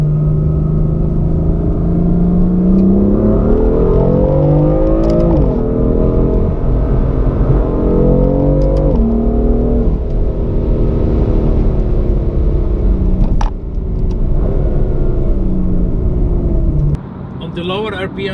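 A BMW M4 engine revving hard toward its 7,600 RPM redline, loud and close, pitch sweeping up and down across several pulls with a deep rumble underneath.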